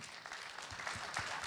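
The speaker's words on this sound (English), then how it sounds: "I think that our panel deserves a round of applause." Audience at the EU Space Days 2024 conference applauds a panel, a steady, fairly faint wash of many hands clapping with no voices over it.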